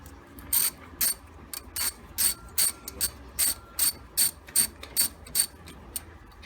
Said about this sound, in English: I'm taking the first caliper bolt off, and I'm using a 10mm socket.